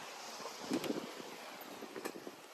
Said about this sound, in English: it's causing our head sail to flap a lot